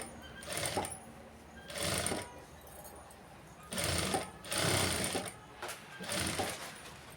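Sewing machine stitching a blouse with computer embroidery: several short bursts of fast, steady whirring stitching with quiet pauses between them, close up and loud.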